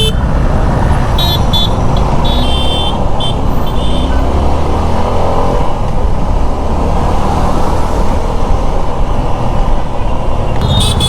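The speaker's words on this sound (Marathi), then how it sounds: "बघ, पूर्ण ट्रॅफिक आहे अख्खी." Heavy traffic on a jammed road at Ghodbunder heard from a motorcycle: a loud, continuous roar of engines with several car horns tooting intermittently, close and dense throughout.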